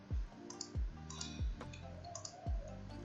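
Sharp, separate clicks from a computer keyboard key, roughly four presses at an even pace, close and fairly quiet, with no speech.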